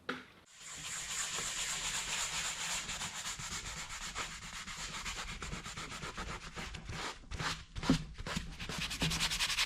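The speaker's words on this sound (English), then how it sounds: "Just keep using that one area of the pad just to spread the solvent everywhere, and then use other areas to sand further." A solvent-wetted sanding pad rubs back and forth across the leather seat of a BMW E36 interior under repair, producing a steady close scrubbing hiss with rhythmic stroke swells toward the end.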